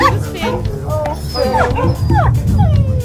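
Young puppies whimper and yip in a few short, high, rising cries, close by, mixed in with people chatting over a busy low background.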